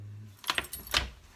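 Keys jangle and clink against a door lock on a first morning in the Loire Valley, several close metallic rattles in quick bursts with quiet pauses between, and no speech over them.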